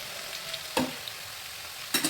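Crispy fried food being lifted from the oil and stirred in a dish, two brief crackly rustles against a quiet sizzling background.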